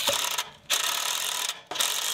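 A ratchet wrench with a deep well socket clicks in two steady bursts of rapid, close pawl ratcheting, separated by brief pauses, while bolts are tightened on a Quonset hut arch.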